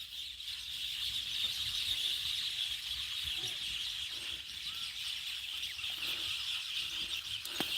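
Faint birds chirping in the open air, high calls scattered over a steady outdoor background hiss.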